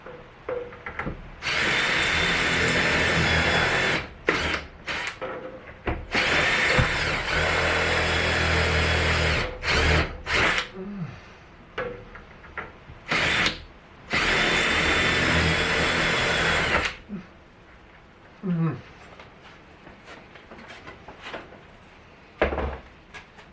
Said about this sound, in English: Then a little drill bit. Drill these out.